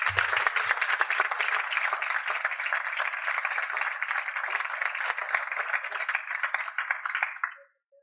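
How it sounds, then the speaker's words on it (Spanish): Sustained applause from a conference audience greets a presenter at an artificial intelligence community event, a steady mass of claps that fades out near the end. "así que un fuerte aplauso para salir"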